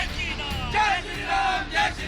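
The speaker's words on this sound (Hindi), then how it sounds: "सड़कों पर निकली साधु संतों की ये भीड़ और नारेबाजी के साथ जय श्री राम का जय घोष" A crowd of sadhus out in the streets chanting Jai Shri Ram slogans, with loud, massed voices swelling in repeated shouted waves, fairly close and filling the scene.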